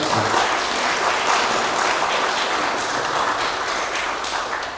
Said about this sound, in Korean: 다시 한번 박수드리겠습니다.